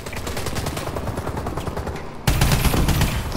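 Rapid automatic gunfire in the video game Call of Duty: Advanced Warfare, a dense run of quick shots that grows abruptly louder and heavier midway.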